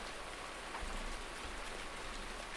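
Steady rain pours onto a surface in a rural Pomeranian farm village on a cold spring day, a dense, even hiss with no voices, a few faint low thumps beneath it.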